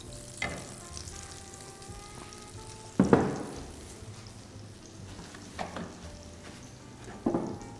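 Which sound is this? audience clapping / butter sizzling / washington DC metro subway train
butter sizzling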